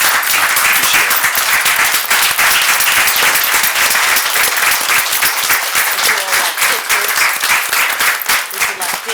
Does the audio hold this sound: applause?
yes